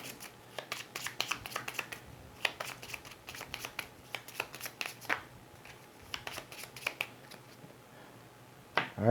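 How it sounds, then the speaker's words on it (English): Cards from a board game are shuffled by hand in a run of quick riffling and snapping bursts, close and crisp, with short pauses between them and a louder clack at the very end. "I'll shuffle them in."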